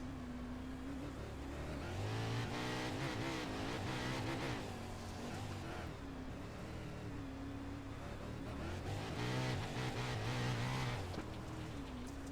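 A 305 sprint car engine drones continuously on a track, its pitch rising and falling as the car speeds up and eases off with little throttle, steady and moderately loud.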